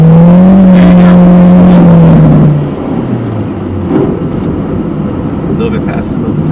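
A car speeds up around a wet handling course, its engine note rising and then easing back as the run goes on, close and loud, with someone speaking over it.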